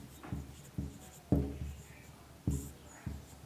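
Chalk or marker writing on a classroom board, a few separate scratchy strokes with short pauses between them, close and fairly clear, with a faint voice in the background.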